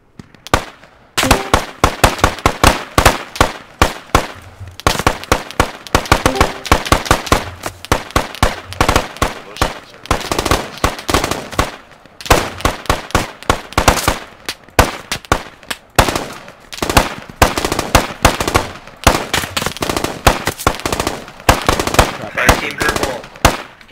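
Sustained automatic gunfire in the video game Squad while suppressing a .50 cal position at a sandbag line, dense rapid bursts of loud close shots with brief pauses, continuing for the whole stretch.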